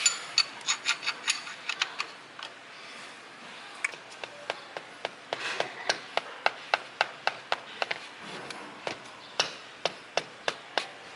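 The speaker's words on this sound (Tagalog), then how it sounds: "So we are going to loosen this up with the wrench." A wrench loosening the oil drain bolt on a Kawasaki Vulcan S motorcycle, a long series of sharp, regular metallic ratcheting clicks, close and clear, with no talk.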